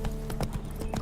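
Hooves of Roach, a horse in The Witcher 3 video game, clip-clop in a quick, regular rhythm, fairly close and moderately loud, with a faint tonal hum behind.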